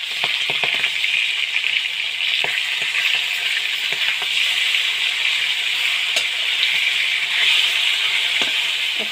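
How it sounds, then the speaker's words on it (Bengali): Fish frying lightly in hot oil in a pan, a steady close sizzle with small crackles and pops throughout, no talking. "মাছগুলো হালকা করে ভেজে নেব।"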